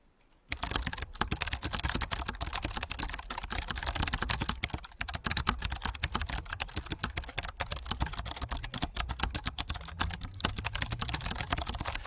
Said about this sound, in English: I was hoping you guys could hear the typing.